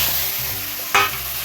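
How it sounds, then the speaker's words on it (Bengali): Vegetable curry poured into hot oil tempered with five-spice and dried red chilli, a steady sizzle that swells into one sharp hissing burst as the food hits the pan, close and alone. "কড়াতে দিয়ে দেবো তেল আর দিয়ে দেবো 5 ফোড়ন আর শুকনো লঙ্কা, দিয়ে তরকারিটা এবার ঢেলে দেবো।"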